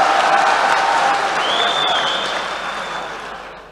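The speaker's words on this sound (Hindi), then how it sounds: "एक बार पूरा पिंडा जोरदार तालियां बजाकर मेरी हौसला अफजाई फरमा" A crowd at a Dubai poetry performance applauds the poet, a dense, steady wash of clapping that starts loud and slowly tapers off, with a faint whistle-like tone drifting through.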